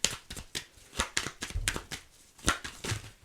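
Tarot cards are shuffled for a reading, a quick run of crisp, close riffling flutters and soft taps over a few seconds with no voices.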